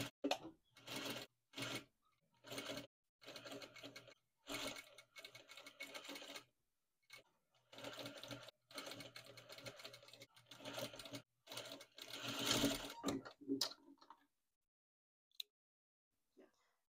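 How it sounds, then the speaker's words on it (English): A sewing machine stitches along a curvy fabric edge for a cloud-shaped strap, running in short, close bursts separated by pauses, with one longer run before it stops. "I'll be sewing from this side."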